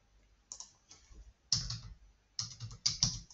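Someone enters an OTP code on a device to withdraw from the HedgeX trading app: sparse bursts of key taps, quiet and close, with short pauses between groups of presses and no talk.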